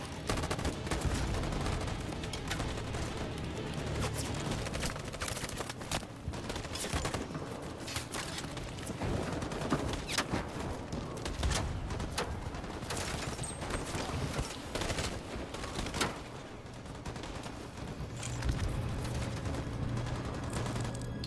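Gunfire crackles almost continuously through a battle in the video game Detroit: Become Human, dense bursts and booms layered over a loud, busy soundscape with no speech.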